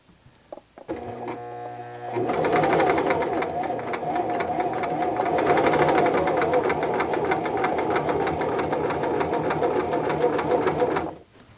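Sewing machine stitching slowly and steadily, starting with a few hand-wheel clicks before settling into a continuous close, even mechanical whirring and rapid needle chatter for about nine seconds, then stopping abruptly.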